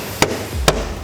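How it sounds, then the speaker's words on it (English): A hammer knocks a Rock Slide Engineering step slider into place on a Jeep Wrangler JL, giving two sharp, separate blows about half a second apart, close and dry with faint background hum. "get a dead blow or something, or a block of wood and a hammer and hit on it"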